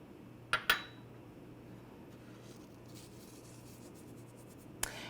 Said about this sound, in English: we're just going to go ahead and stir that together really quick